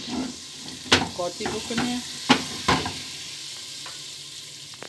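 Herbs and turmeric frying in hot oil while being stirred, a soft steady sizzle with a few sharp clicks of a utensil against the pan, and a voice speaking briefly.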